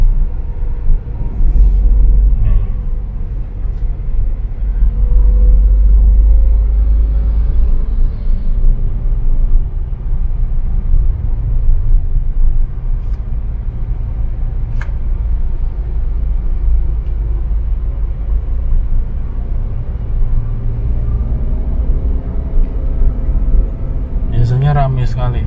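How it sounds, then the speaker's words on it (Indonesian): Steady street traffic in Fakfak, with a continuous low rumble of passing vehicles and motorcycles heard close and loud, plus someone talking over it throughout. "Ramai sekali jalanan ini, agak macet tapi sekarang sudah mendingan lah, sudah sepi ya, ada beberapa lah motor-motor itu"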